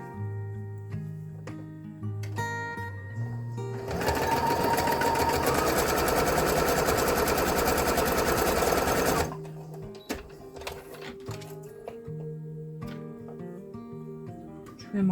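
A sewing machine stitching cotton fabric for a tea bag bookmark runs in a steady, fast mechanical whir for several seconds, close and clear, with quiet pauses and soft handling noises before and after.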